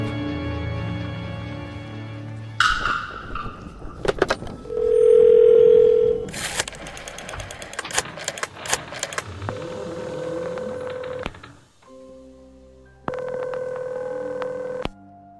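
A dial tone hums from a game telephone, followed by bursts of tone presses and clicks, a steady tone, then a later steady tone segment, with no talking.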